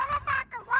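A voice imitates a chicken with three quick, nasal clucking squawks, close and loud, during a racing game session.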